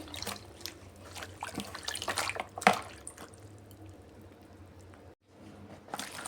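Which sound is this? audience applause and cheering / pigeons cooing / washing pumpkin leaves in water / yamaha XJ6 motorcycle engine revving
washing pumpkin leaves in water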